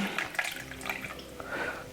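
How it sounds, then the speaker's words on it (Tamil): Water is poured from a cup into three cups of milk powder to mix batter for instant appam, a soft irregular splashing and trickling close by with no talk over it. "இந்த மூன்று கப் பால் மா பவுடரையும் இப்படி மூன்று கப் தண்ணியை விட்டு நாங்கள் கரைச்செடுப்போம்"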